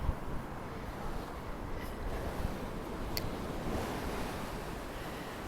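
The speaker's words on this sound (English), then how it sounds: "There you go, back to the waves." Ocean waves wash continuously onto the Blackpool seafront between Central and North Pier, a steady, fairly loud rushing surf with some wind noise and no voices.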